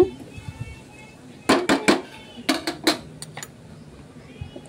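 Onions stirred with salt and turmeric in a pan, giving a few clustered clinks and scrapes of a utensil against the pan in the middle of the stretch, with quiet background in between.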